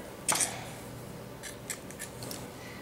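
Scissors snip once through the edge of rolled dough tucked into a dish, a short crisp close cut followed by a few faint light clicks.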